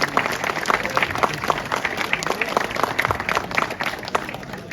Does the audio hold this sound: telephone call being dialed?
no